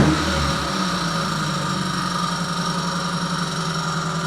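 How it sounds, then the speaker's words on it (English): A 1994 Mazda MX-5 engine with a loose, under-torqued water pump pulley holds a steady idle-like drone, with a faint harsh metallic ringing sitting high above the engine hum throughout. "a high frequency, metallic, pinging, kind of a harsh sound right after I revved the car"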